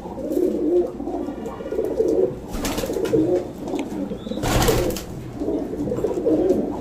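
Rampuri high flyer pigeons coo in low, rolling calls from several perches, with a couple of louder bursts of flapping or rustling nearby.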